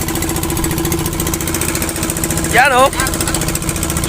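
Steady droning engine of a fishing boat motor during net fishing, loud and continuous, with a voice speaking briefly over it.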